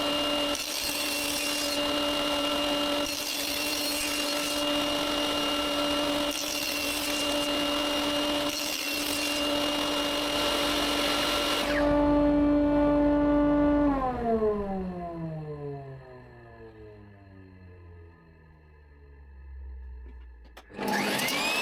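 A power saw rips thin wooden boards into 2.5 cm strips, a loud steady whine with rhythmic cutting surges, then the blade spins down with a falling pitch until it stops.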